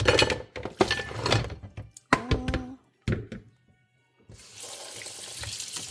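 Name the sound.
rinsing aubergines, courgettes and peppers in a colander under tap water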